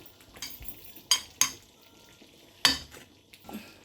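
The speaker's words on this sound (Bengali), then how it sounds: "সামান্য তাড়কা লাগাইমু, ওখানে ঘি দিলাম।" Ghee tempering (tadka) for haleem in a pan: a few sharp, short sizzling bursts spaced apart over a quiet, low background, fairly faint overall.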